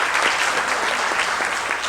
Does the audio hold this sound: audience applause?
yes